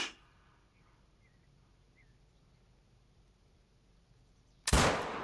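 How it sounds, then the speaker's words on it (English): A single rifle shot at a deer in the hunting game theHunter: Call of the Wild, a sudden loud blast with a short trailing boom that breaks a long stretch of faint, quiet outdoor ambience near the end, with no talk. "I guess we could take a frontal shot here"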